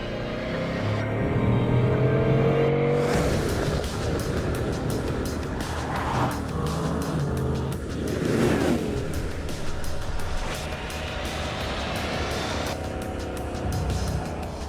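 A Bugatti Chiron with its 8-litre 16-cylinder W16 engine drives along a motorway, a loud sustained engine drone and road rumble that rises and falls slightly, with no talk.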